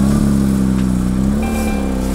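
A Porsche GT3 RS engine drones steadily at close range, loud and even for about two seconds, with a faint higher whine rising partway through.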